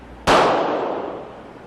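A single loud, close gunshot from a .40 S&W pistol firing a 165 grain bullet in a ballistic test, a sharp crack that rings out in a long decaying tail.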